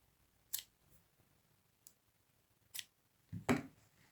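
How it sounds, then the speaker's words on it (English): Scissors snip crochet yarn for an Irish crochet rose in a few quiet, close, separate cuts, with one louder snip near the end and no voices. "snip your yarn"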